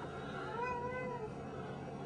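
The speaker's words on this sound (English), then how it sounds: "Oh, that cat's bugging me." A cat meowing indoors, one drawn-out faint meow behind a steady background hum.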